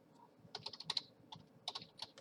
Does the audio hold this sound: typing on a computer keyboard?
yes